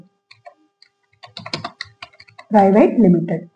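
Keys clatter in irregular bursts on a computer keyboard while entering company details in Tally Prime accounting software, close and fairly light, before a person starts speaking over the end.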